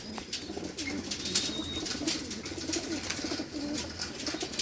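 Expensive pedigree pigeons in a breeder's loft coo continuously, several birds overlapping in low rolling calls close by, with light rustling and clicks.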